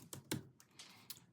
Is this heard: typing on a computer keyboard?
yes